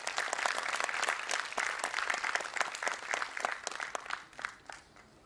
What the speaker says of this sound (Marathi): एकदा जोरदार टाळ्या होऊन जाऊन या सगळ्या मान्यवरांसाठी